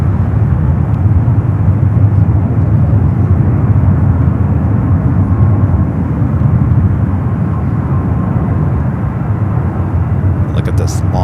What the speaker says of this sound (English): Korean Air, the 787-10 Dreamliner heading back to Seoul, next takeoff.